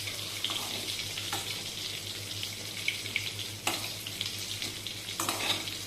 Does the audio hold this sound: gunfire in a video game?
no